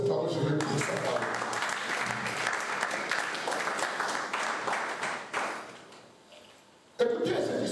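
A church congregation breaks into loud, sustained applause and cheering that fills most of the moment, fading briefly near the end before a sharp burst of voices returns.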